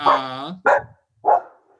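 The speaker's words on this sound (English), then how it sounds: "This dog's trying to take my spotlight" A dog barks three times in quick succession, loud and close, with short gaps between the sharp barks.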